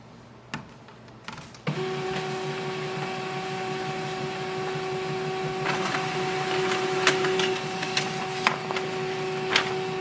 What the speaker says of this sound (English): select your printer and print it